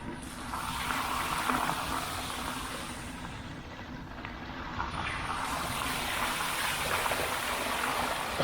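Water flowing across a trail near Acriggs Falls, a steady soft rushing wash at fairly low level that stays continuous throughout with no speech.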